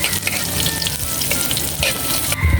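Garlic, onions and kangkong (water spinach) frying in a pan, a loud continuous close sizzle with faint spattering, no talk.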